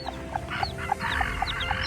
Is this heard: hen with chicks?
yes